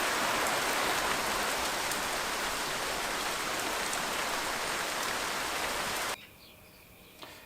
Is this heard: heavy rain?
yes